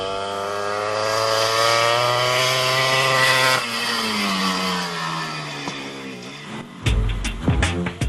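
Dakar Rally 2011 motorbike engine droning steadily with a strong buzzing tone, then dropping in pitch before a burst of rough revving and clatter near the end.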